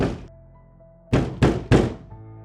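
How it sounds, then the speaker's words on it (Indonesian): Three loud, close knocks on a wall in a quiet room at night, struck with a small flashlight, coming in quick succession after a faint thud, with a low hum in the background. "mulai mengetuk balik ke dinding, seperti menantang sesuatu"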